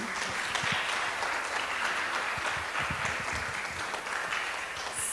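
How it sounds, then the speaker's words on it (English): An audience applauds a team at a Bhagavad Gita contest, a continuous wash of clapping from a crowd in a hall that holds steady and moderately loud for several seconds. "can we have a big round of applause for Group 3?"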